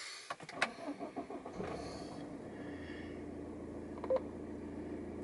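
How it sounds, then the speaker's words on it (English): A 2008 BMW 120d diesel automatic hatchback starts up: a few starter and electronic clicks, a cranking catch, then the engine settles into a low, steady idle heard up close. "Just to start the vehicle"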